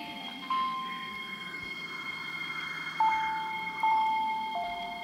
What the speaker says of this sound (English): Train approaching platform 4 will end its service at Central.